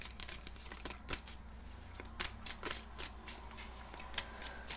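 Tarot cards are shuffled in a quick series of crisp riffling flutters, close and soft over a low background hum, with no talk.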